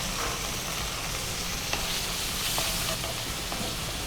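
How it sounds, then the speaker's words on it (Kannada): Tomatoes fry in a pan with ginger-garlic paste for kaju masala, a dense, even sizzle filling the whole stretch, close by, with a few faint clicks of stirring and no talk. "ಟೊಮೆಟೊ ಹಾಕ್ತಿದ್ದೇನೆ."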